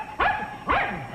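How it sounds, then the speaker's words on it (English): A dog barks twice in a TV comedy scene, two close, loud woofs about half a second apart with nobody talking. "It's a brave dog."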